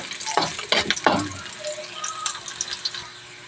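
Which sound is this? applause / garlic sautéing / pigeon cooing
garlic sautéing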